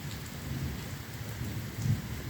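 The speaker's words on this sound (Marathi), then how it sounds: "आवाजही येत असेल तुम्हाला. ढगांचा कडकडाट चालू आहे आणि अगदी संततधार चालू आहे." Continuous windless rainfall patters at a steady level, with a deep rolling thunder rumble beneath it and a slight swell near the end.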